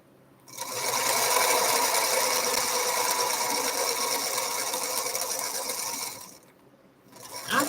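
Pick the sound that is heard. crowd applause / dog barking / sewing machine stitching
sewing machine stitching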